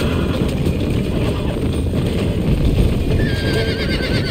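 Horse whinnying over clopping hooves in the video game Red Dead Redemption, a loud, dense in-game mix with a steady background roar and no pauses.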